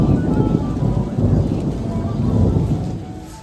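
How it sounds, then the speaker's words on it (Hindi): Evening rain with thunder, a steady broadband rush of rainfall under low rolling rumbles that swell and ease over a few seconds, fairly loud and close, with no voices. "शाम को थोड़ी बरसात सी हुई और बहुत ठंड बढ़ गई थी।"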